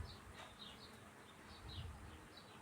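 A swarm of bees buzzes faintly in a yard, a steady low drone with occasional closer passes drifting in and out, no talking.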